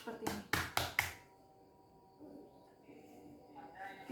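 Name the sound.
cupped-hand clapping massage strokes on the body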